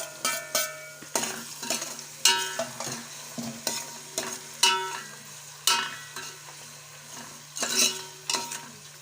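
Onions and tomatoes sizzle in a frying pan for an egg biryani, with a steady hiss broken by repeated scraping strokes of a spoon stirring the mixture, close and moderately loud.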